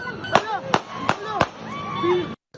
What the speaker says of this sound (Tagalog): bumunot ng baril ang nakaputi at umalingaw-ngaw na ang putok ng baril